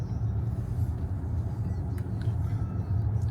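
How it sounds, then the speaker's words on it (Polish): An MG HS Hybrid+ 2025 car running on electric power at nearly 70 km/h, heard from inside the cabin as a steady low road rumble and tyre hum with no combustion engine note. "A tak jedzie samochód."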